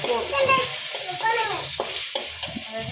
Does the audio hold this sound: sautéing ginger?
yes